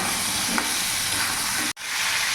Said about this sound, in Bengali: পটলটা এখানে ততক্ষণ ভাজা হোক